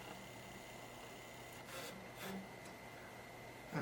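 Sandpaper rubs against the felt of a spinet piano hammer in a few short, quiet strokes over a faint steady hum.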